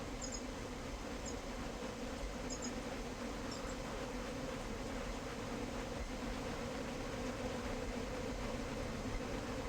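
Dense, steady buzzing hum of countless wings from a swarm of moths, a continuous droning texture with faint high flickers, holding at an even level throughout with no voices.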